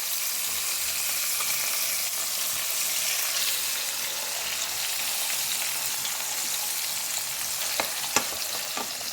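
Fish fillets shallow-frying in a pan in a Kerala kitchen, a continuous close sizzle of hot oil with faint crackling and a few sharp clicks and taps near the end, no voices.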